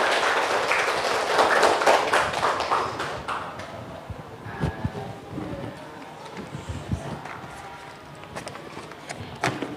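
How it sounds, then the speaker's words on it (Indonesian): A small audience claps at the close of a university teaching session, loud at first and then fading into scattered, irregular claps with some voices. "Tepuk tangan."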